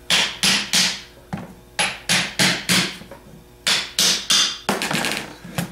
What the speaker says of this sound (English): tap off the front half on the plate with a hammer